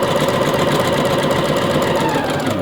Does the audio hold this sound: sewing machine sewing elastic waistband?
yes